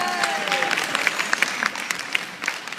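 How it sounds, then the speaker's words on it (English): A conference audience applauds with a dense wash of clapping, moderately loud, with a few sharper nearby claps standing out and faint voices mixed in. "Give yourself a good applause."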